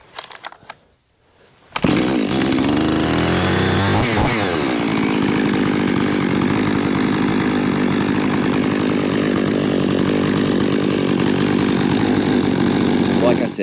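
After a few quiet seconds, a tuned chainsaw on a homestead starts up and runs continuously, its engine droning loud and close, with a brief rev early on before settling into a steady high idle.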